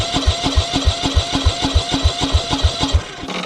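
An engine cranks, powered by a portable 12V power-bank jump starter, with a steady rhythmic chug of about a dozen even starter beats over roughly three seconds, loud and close, then it stops without catching.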